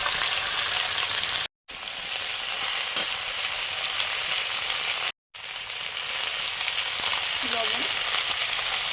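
Mixed vegetables fry together with onions in a pan for a curry, giving a steady, loud sizzle throughout with a couple of brief gaps and a faint stirring scrape near the end.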